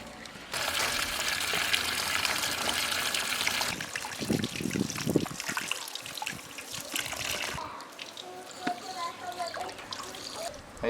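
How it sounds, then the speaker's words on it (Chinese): Freshly gathered wild mushrooms being washed in a basin of water, a continuous close trickling and sloshing with splashes and handling, with someone speaking at times over the water. "倒到盆里洗一下，晾干。"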